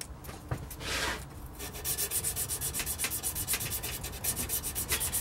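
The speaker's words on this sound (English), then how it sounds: "You're going to be rubbing that over the fret" Abrasive paper, around 600 grit, is rubbed over the metal frets of a guitar neck, first as a short scuff and then as a steady run of quick, even back-and-forth strokes, close and fairly quiet.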